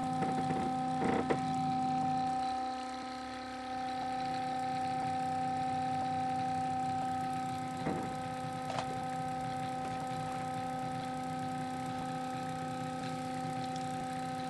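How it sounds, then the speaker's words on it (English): A Muller motor powered by a 14-volt DC supply runs continuously with a steady mechanical whir and hum, faint and even throughout, with a couple of small clicks and no speech. "the motor is being fed with a 14-volt DC input"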